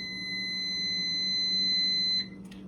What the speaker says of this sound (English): My Brussels sprouts are almost done. That was the alarm for them.